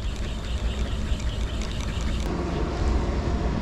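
A motorboat passes on the open sea while light spinning and rockfishing from shore, its broad churning wash and low engine rumble steady and fairly loud against wind noise on the microphone, swelling slightly toward the end.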